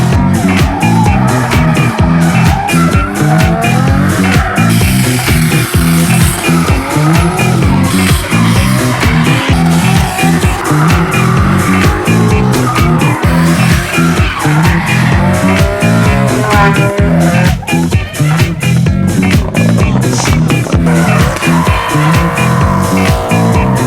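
A right-hand-drive Nissan R34 Skyline is driven hard on a touge hill-climb race course, its engine screaming and revving constantly while tyres squeal through the bends, loud and close for the whole stretch.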